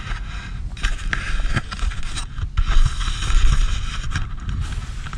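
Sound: ice chunks crunching flowing down Missouri River

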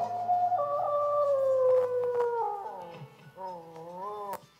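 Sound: howling wolf sound effect

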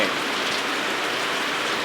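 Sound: rain falling

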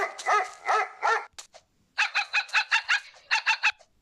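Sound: dog barking in a video game

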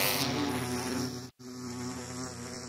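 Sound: aggressive bee buzzing in a video game

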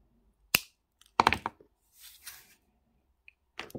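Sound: cutting wires with cutters

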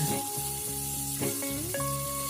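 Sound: stir-frying marinated pork for yakisoba

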